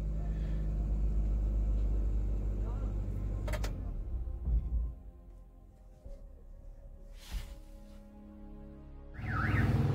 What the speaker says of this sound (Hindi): अगर हम इस गाड़ी को स्टार्ट करते हैं और देखते हैं कितना नॉइज आता है, तो इस गाड़ी में जरूर थोड़ा बहुत नॉइज अंदर आता है।